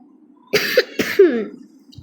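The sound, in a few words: cough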